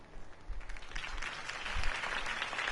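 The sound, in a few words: crowd applause in a video game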